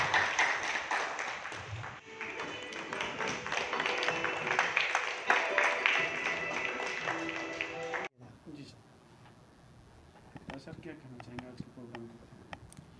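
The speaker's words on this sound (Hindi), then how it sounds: "समीर शर्मा अपनी ट्रॉफी रिसीव कर रहे हैं, तालियां बजाएं आप सभी के लिए।" A crowd at a Brahma Kumari ashram event applauds as a student from a school racing team receives his trophy. Steady, busy clapping runs for about eight seconds under talk, then drops to a faint patter of scattered claps.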